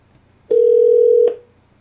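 A single steady electronic phone dialing tone from an Alexa device sounds for under a second, clean and loud, then stops abruptly in otherwise quiet surroundings.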